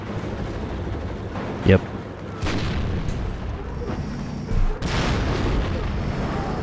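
Russian tank gunfire, likely from a T-64, in the game Warno, with a few heavy booming cannon shots over a constant battlefield rumble and a brief voice speaking.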